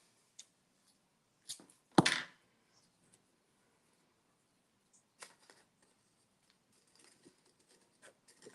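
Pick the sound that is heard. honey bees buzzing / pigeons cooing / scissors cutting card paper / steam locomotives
scissors cutting card paper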